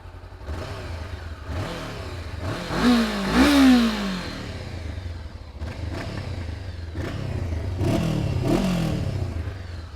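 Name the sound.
Honda CB500X 2017 motorcycle exhaust revving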